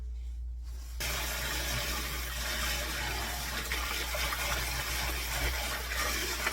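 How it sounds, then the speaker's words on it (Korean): Cold running water pours steadily from a tap as blanched sea mustard seaweed is rinsed in a kitchen, a close, continuous splashing rush that starts abruptly after a quiet moment, with no talk. "이렇게 데치면 다 된 겁니다. 찬물에다 헹궈 볼게요."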